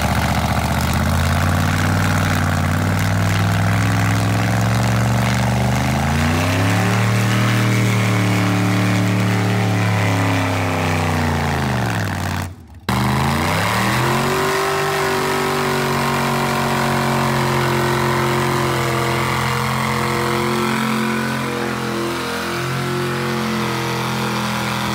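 A rock bouncer off-road vehicle's heavy engine rumbles and revs in long rising and falling swells, dropping briefly mid-way before roaring back up loud and close, with no talking.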